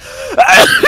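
A sharp sneeze bursts out once near the middle, quick and close, set against the low murmur of a Heroes of the Storm esports broadcast.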